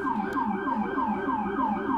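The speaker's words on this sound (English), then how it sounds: "You hear the sirens get louder?" A wailing siren cycling up and down in a rapid, repeating pattern, steady and fairly close.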